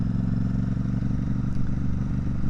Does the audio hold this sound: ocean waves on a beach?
no